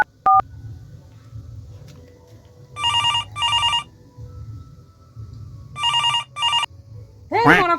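A few quick keypad dialing beeps give way to two double-pulse ringback tones on a phone call that nobody answers, while people talk quietly in the background.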